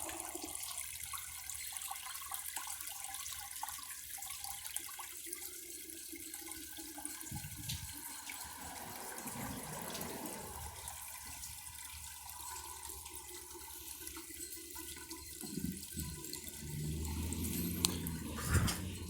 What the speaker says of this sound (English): I'm going to flush the mud through the tank once that's finished filling